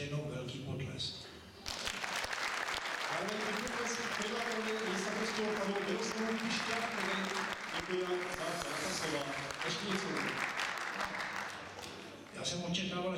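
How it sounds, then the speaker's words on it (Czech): Clapping from the audience at a sports awards ceremony in Prostějov swells into sustained applause, loud and close, mixed with voices and a brief dip near the end. "ještě jednou velký potlesk"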